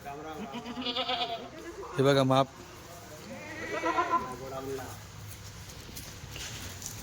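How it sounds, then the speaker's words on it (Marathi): Kathiawadi dairy goats that have recently kidded let out a loud, close bleat among a few softer calls in a herd setting, while someone talks nearby. "या सगळ्या शेळ्या मित्रांनो जनलेल्या शेळ्या आहेत दुधाच्या शेळ्या आहेत"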